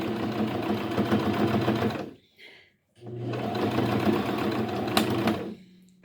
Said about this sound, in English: I'm back stitching a lot on this, so hopefully I won't have to, re-sew the seams.